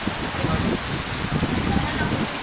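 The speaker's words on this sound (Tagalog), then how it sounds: "Sugas ulan oy." Heavy rain pouring down at an inland agro resort in Tagum, Davao del Norte, a thick continuous hiss of drops drumming on surfaces, steady and close throughout.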